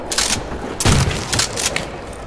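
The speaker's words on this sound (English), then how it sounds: "the trench gun is really good" A trench gun blasts away in Call of Duty World at War's Nazi Zombies on Nacht Der Untoten, several loud shotgun booms spaced about half a second apart over steady background noise.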